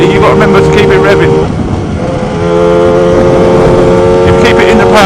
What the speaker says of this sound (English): You've got to remember to keep it revving.